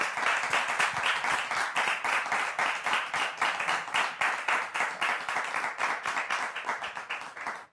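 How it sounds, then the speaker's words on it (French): Studio audience at a French television talk show claps in a fast, rhythmic unison beat, many hands striking together in steady pulses that continue throughout and taper slightly near the end. "Je voudrais entendre les applaudissements du public encore plus fort."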